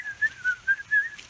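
A person whistles a short tune during hillside renovation work, with several clear, close, wavering notes in a bouncy rhythm and no talking.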